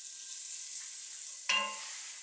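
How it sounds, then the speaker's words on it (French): A spoon stirs coq au vin in a cooking pot over a steady soft sizzle, with one brief scraping clatter near the end. "On touille."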